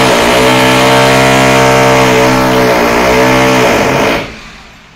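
A power drill or similar machine run by workers whines loudly and steadily with a strong motor hum, then winds down and cuts off near the end, leaving faint background noise.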